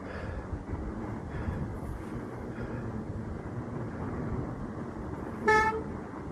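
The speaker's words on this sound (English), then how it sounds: "Oh, now my brakes are squealing." Brief high-pitched squeal from fat bike brakes, a short tonal burst with stacked harmonics near the end, over steady outdoor trail rumble and wind noise.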